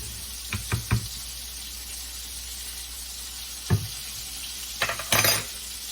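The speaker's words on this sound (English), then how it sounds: "Yep, it is dissolving, so I'll keep stirring it." Meat and dissolving bouillon being stirred in a crockpot while cubed steak cooks, heard as a few scattered spoon knocks and scrapes against the pot over a steady low background hum, with no voices.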